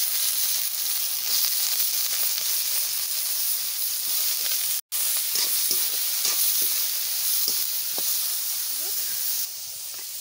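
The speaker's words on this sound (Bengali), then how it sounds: "এইবার আমি সয়াবিন ভাজ দিচ্ছি" Soybean chunks fry and sizzle steadily in a pan, a loud continuous hiss with scattered crackles and stirring scrapes, broken by one brief cut.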